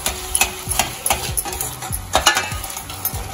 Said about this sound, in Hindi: अब इसे अच्छे से मिक्स कर लेंगे।